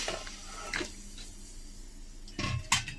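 Cut pieces of elephant foot yam dropped into a pot of hot water on the stove, giving a few soft splashes and clinks of pot and utensil, with a short clatter near the end and quiet stretches between.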